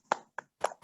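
Four sharp claps in an uneven rhythm, close and fairly loud with gaps of silence between them, from a group clapping out the Tepuk PPK cheer.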